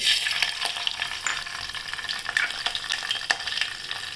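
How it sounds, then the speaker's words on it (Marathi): Mustard seeds sizzle and crackle in hot oil, a steady bright hiss with irregular sharp pops, close and fairly loud. "फोडणी तयार करू घेऊया मोहरी टाकूया"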